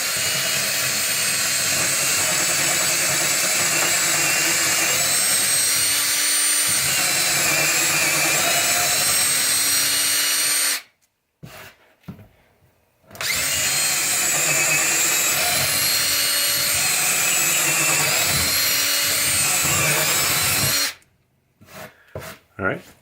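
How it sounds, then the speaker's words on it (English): A power drill bores down through a workbench surface and the 2x4s beneath it to mount a bench vise, a loud, close, steady high whine for about ten seconds, a brief pause, then a second long run before stopping. "I'm going to drill right down through."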